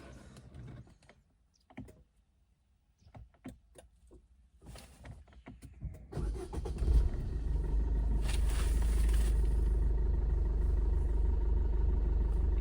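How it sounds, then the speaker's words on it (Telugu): A few faint clicks and taps, then a Maruti Suzuki S-Cross diesel engine cranks and catches, settling into a steady, close idling hum that continues to the end. "ఒకసారి కారు కూడా మీకు స్టార్ట్ చేసి చూపిస్తాను నేను"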